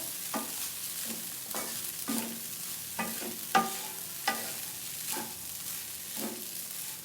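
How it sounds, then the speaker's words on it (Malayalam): A spatula stirs aval upma (flattened rice) in a frying pan. Rhythmic scraping strokes come about once per second over a soft background, with no talking. "നന്നായിട്ട് മിക്സ് ചെയ്ത് കൊടുക്കാം"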